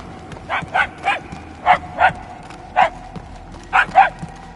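Dogs bark in a Guardians of the Galaxy video game, about eight sharp barks heard mostly in quick pairs, spaced over several seconds at moderate distance.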